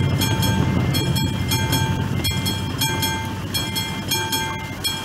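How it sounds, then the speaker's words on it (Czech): A train rolling past a level crossing in Euro Truck Simulator, a loud continuous rumble of rail cars with rhythmic clicking wheel beats and tonal metallic ringing throughout, no talk. "tam ten vlak nejel dopředu, protože Bručan byl moc blízko."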